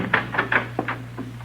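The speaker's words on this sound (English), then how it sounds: "Somebody's unlocking the door." A door is unlocked in a radio drama sound effect: a series of light metallic clicks and rattles, close and moderately quiet, over a steady low hum.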